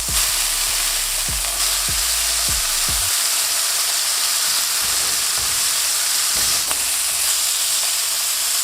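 Food sears loudly in a hot pan with a steady, bright sizzle throughout, while a spatula scrapes and knocks against the pan in a few quick strokes near the start and once more later on.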